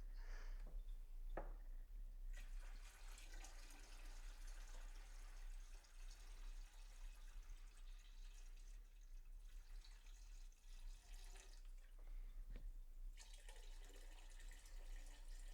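Water from a leftover gallon poured steadily into a fermenter of honeydew melon wine must, a continuous close splashing and trickling with brief pauses, no talking.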